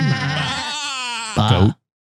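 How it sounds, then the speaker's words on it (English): A goat bleats loudly and close up, one long wavering cry followed by a shorter, harsher bleat before it cuts off into silence. "Goat."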